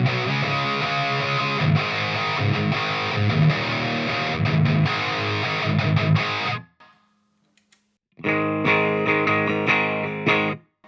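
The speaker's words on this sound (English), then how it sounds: "This is like ultra gain, the last one here." Electric guitar played through a Fender Champion II 50 amp set to ultra gain, loud and heavily distorted with dense chords, cutting to near silence briefly before resuming for a final burst.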